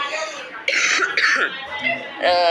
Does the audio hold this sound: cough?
yes